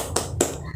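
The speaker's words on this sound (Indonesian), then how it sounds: "kali ini kita tepuk semangat ya" A class claps through the 'tepuk semangat' clap routine in a schoolroom, two crisp, close hand claps a quarter-second apart over a low steady background hum.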